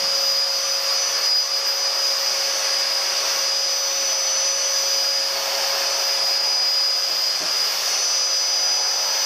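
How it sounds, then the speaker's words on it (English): A vacuum cleaner runs steadily at close range, a loud continuous whining drone with no pauses and no talking. "Not the most efficient vacuuming, but vacuuming."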